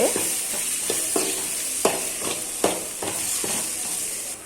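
Spices sizzle in a hot pan with a steady hiss while a utensil stirs and scrapes at a regular pace, sautéed lightly with salt for vada curry.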